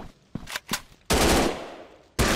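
Gunfire in the mobile FPS game Gun Strike Shooting 3D: a few quick, light shots, then two loud, close bursts of automatic fire, each cut off sharply.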